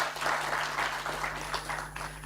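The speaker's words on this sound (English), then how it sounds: "let's applaud them" An audience at a Human Rights Day commemoration in Kenya claps in steady, moderately distant applause, a dense patter of many hands with a low hum beneath it.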